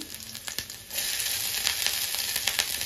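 Garlic, ginger and green chili frying in oil in a pan for gobi manchurian, a bright hissing sizzle with a few crackling pops, growing fuller partway through.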